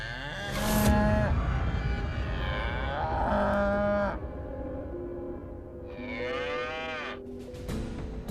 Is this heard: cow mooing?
yes